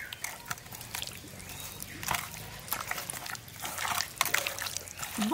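Squelchy wet mixing by hand as katla fish pieces are rubbed with mustard oil and salt, a close, continuous slick churning with soft splashy pulses and no talk.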